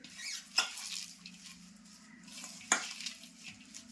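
Fenugreek leaves and chopped onion being stirred and mixed with poha for crispy methi vadas, giving a soft, steady scraping and mixing sound with two sharper knocks against the bowl, quiet and close, with no talking.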